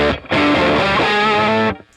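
A distorted electric guitar plays a riff with no octaver, a dense, loud, sustained chord-like passage after a brief opening note, heard alone before cutting off.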